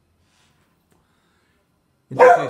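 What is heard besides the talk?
dog barking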